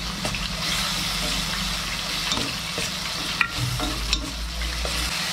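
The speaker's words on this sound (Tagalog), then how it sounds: "Dudurugin natin yung kamatis. Lulutuin natin maayos." Tomatoes are crushed and cooked in a pan, giving a continuous close sizzle with occasional stirring scrapes and a couple of sharp clicks. Faint music runs underneath.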